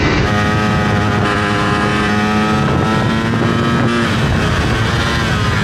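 A Ducati Panigale V4 S 2025 sport motorcycle engine roars loudly and continuously at high revs, its pitch climbing and holding with a brief dip.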